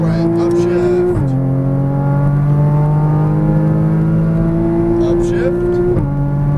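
A Porsche Cayman GTS engine strains on a Las Vegas race track, droning loudly as it accelerates with two sharp gear-shift drops, while an instructor talks over the roar.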